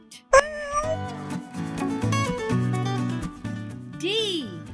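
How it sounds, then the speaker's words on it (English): A cat meows in a children's alphabet lesson, a bright rising cry near the start and another short mewing call near the end, set against a cheerful musical backing. "C is for cat."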